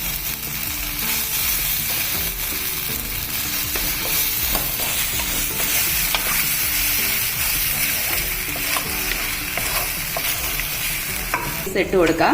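About 1.5 kg of small chicken pieces sizzle hard in hot, oily vindaloo masala for Goan chicken curry, a loud continuous crackle broken by repeated stirring scrapes, with a brief spoken phrase near the start.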